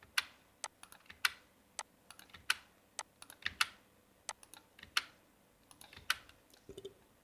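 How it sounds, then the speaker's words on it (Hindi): Crisp keystrokes clack on a computer keyboard at an uneven pace, with several separate presses and a short cluster near the end, close and clear in a quiet room. "ये टैब लगा दिया कीबोर्ड से, और कीबोर्ड से टैब दबा करके हमने इस तरह से सेटिंग कर ली"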